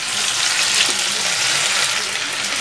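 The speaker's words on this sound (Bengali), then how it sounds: "এবার এতে টমেটো, 1টা টমেটো আমি কেটে রেখেছিলাম সেটা দিয়ে দিচ্ছি।" Chopped tomato hitting hot oil with ginger in a pan for panchforon rui, a loud, steady broadband sizzle that holds evenly throughout with no break.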